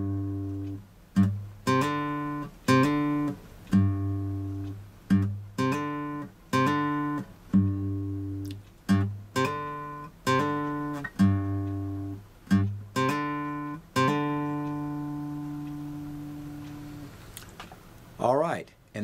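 An electric guitar plays the intro melody alone, with repeated plucked notes and hammer-ons in a steady phrase, ending in a brief scrape.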